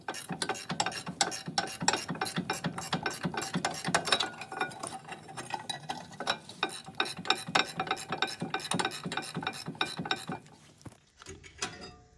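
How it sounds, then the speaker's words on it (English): A ratcheting wrench clicks rapidly while loosening the rear brake caliper carrier on a BMW E31 840i, close dense bursts of metallic ticks in uneven runs, stopping briefly near the end. "I'm just using a ratcheting wrench here"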